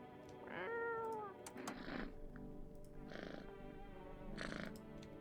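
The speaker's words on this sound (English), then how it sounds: "Pet the kitty." A cat in a video game purrs and meows as it is petted: a drawn-out meow, then a softer purring rumble with a few shorter mews, faint and close, with no talk.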